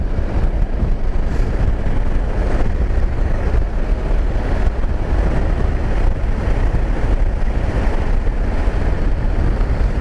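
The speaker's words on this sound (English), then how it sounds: "The wind's getting quite annoying now." Heavy wind roar buffeting the microphone while riding a Honda ST1100 motorcycle, a loud, steady, low rushing blast with no break.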